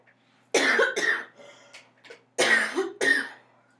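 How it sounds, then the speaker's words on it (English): Two bursts of harsh, close coughing, each a quick pair of coughs, separated by a short pause with faint breathy sounds. "I've got a bit of a cough."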